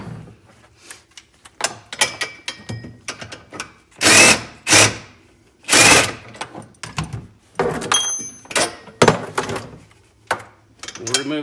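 A 13 mm socket tool removes front bolts on a Can-Am X3, with short bursts of whirring and clicking ratchet or driver sounds between quieter handling noises, close to the microphone.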